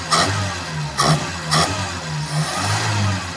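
A Ford Laser car engine with a carburetor being adjusted is revved with the throttle three times in quick succession, each sharp rise falling back to a steady idle, loud and close with no talk.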